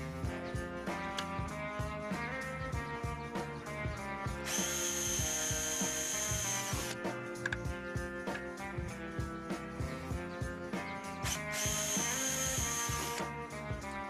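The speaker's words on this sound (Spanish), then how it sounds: "Nos cogemos nuestro taladro y nuestra borca para madera y le hacemos los agujeros." Electric drill with a wood bit boring holes in wooden parts of a metal chair being restored, loud whining motor with repeated bursts of higher-pitched cutting as the bit bites in.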